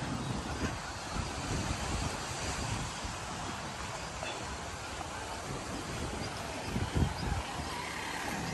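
Cool wind sweeps across Can Gio beach in Vietnam, a steady loud rumbling gust against the microphone over distant surf, with a brief stronger burst near the end.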